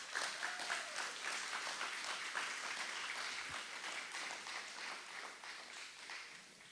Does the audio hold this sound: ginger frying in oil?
no